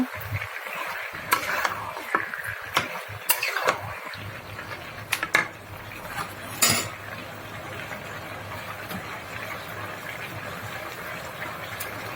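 Meat sizzling as it is fried and stirred in a pan, with a steady hiss and scattered scraping strokes early on, then a continuous fry.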